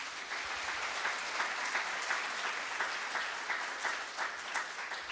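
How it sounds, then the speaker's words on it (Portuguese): A church congregation claps together during a sermon, dense sustained applause with a loose rhythmic pulse, steady and moderately distant throughout. "Aplauda o Senhor Jesus por isso."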